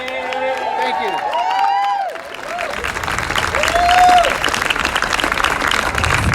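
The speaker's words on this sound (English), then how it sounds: "everybody give it up one more time for John Kiriakou." Outdoor rally crowd outside the Department of Justice in Washington, DC, breaking into loud sustained applause with cheering, preceded by voices over a PA and continuing as a dense wash of clapping.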